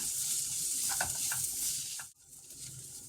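Coriander powder and garam masala frying in a pan, a steady soft sizzle with faint stirring scrapes and a brief dip partway through.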